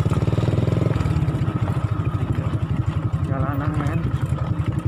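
Motorcycle engine running steadily while riding on a road trip home to Sukabumi, a close, continuous chugging rumble with a regular pulse, accompanied by people talking.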